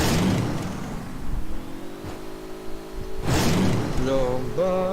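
A truck engine in a shooter game revs up loudly and close by. The rising whine holds steady, eases back, then surges again, with a steady rumbling drone underneath.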